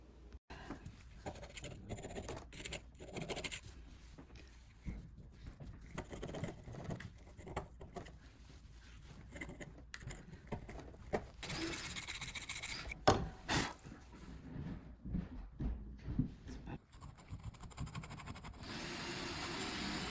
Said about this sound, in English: Removing the thick layers of paint off this antique bronze mortise lock was super satisfying.